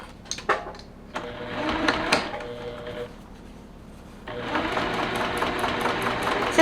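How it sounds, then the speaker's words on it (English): A sewing machine stitches slowly through a foam design board, its motor running in bursts with short pauses and a steadier stretch near the end, close and clear with no talk. "And definitely go slow when you're stitching through this foam."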